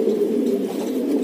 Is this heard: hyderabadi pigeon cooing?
yes